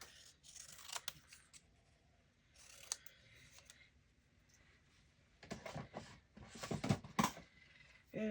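Several short snipping and crunching cuts of scissors through paper come in bursts, some close and sharp, with quieter pauses between them and no talking.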